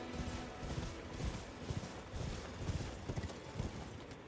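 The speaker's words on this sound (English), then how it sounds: "get off the horse" Horse hooves clip-clopping in the video game Elden Ring, a steady rhythmic gallop of muffled thuds repeating throughout at moderate loudness with no talk over it.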